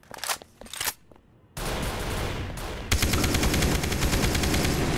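Rapid automatic AK rifle fire from a Roblox gun game, a few short bursts first, then a pause and a long sustained loud stream of shots that grows denser near the end.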